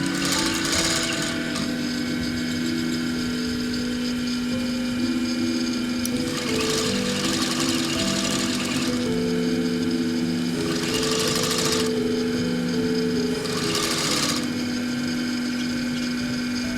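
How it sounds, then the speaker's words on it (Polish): Furrier's sewing machine joining pieces of leather with a very small seam, a loud steady mechanical buzz with rapid stitching rhythm, running continuously close up with recurring surges in intensity. "Maszyna ta nazywa się maszyna kuśnierska bardzo małym szwem łączy dwie części skóry."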